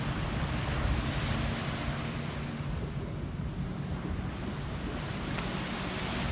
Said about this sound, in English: Pretty light wind. We'll get it to fly though. very light wind.